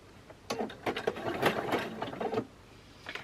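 A sewing machine runs a zigzag stitch while sewing a rope bowl, heard as a close, uneven whirring burst of stitching lasting about two seconds, followed by quieter mechanical clicks.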